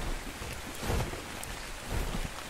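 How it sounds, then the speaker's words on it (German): Rain falls in the video game Ark Survival Evolved, a soft, constant hiss of drops with a couple of low rumbling swells, quiet and without talk. "Regen ist immer öfter hier"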